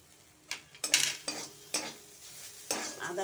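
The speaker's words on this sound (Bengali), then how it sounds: "আদাটা দিয়ে একটু নেড়ে নিলাম।" Spices and grated ginger stirred and frying in a pan: a series of sharp scraping strokes and clinks of a utensil against the pan, roughly one every half second, over a faint background sizzle.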